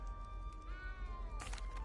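A cat meows in the video game Hogwarts Legacy, with one drawn-out tonal meow and a short second cry near the end over a low game-ambience rumble, and no speech.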